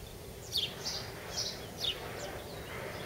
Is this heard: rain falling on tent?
no